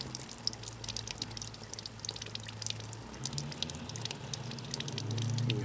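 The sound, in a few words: cooling system flush draining from a Ford Taurus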